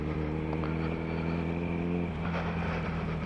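A motorcycle engine revs hard and steadily during a burnout at a prom, a loud, close, droning roar that wavers slightly.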